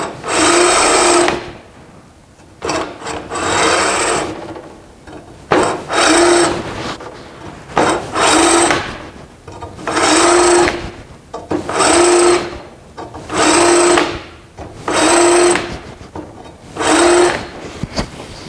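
A drill spots a centering hole in a bypass shock part, running in about eight loud, evenly spaced bursts of whirring with short pauses between them, close by and with no talk.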